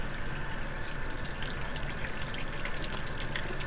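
A tap runs steadily to wet a shaving brush, making a constant, fairly faint hiss of flowing water with no talking.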